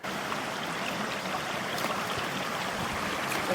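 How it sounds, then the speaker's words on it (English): A river rushes along the bottom of a rocky Utah canyon, a steady, close, full-bodied wash of flowing water that runs unbroken throughout with no voices. "So we're in the bottom of the river."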